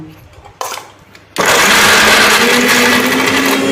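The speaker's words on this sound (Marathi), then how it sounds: "सर्वप्रथम आपण खजूर मिक्सरमधून काढून घेऊ" A kitchen mixer grinder whirs loudly and steadily as it blends dates, after a brief quieter stretch at the start.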